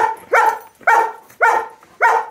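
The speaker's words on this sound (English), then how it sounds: "No matter how many times you bark in her face, it's not going to change the answer." A dog barks four times in an even rhythm, each bark loud, close and clear, separated by short quiet gaps.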